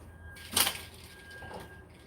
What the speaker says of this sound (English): let me close the door actually. This door is really loud.